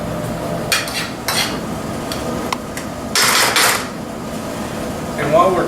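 Cured smoked bacon frying in a pan crackles steadily under bursts of utensil clatter and stirring against the metal, with a brief voice at the very end.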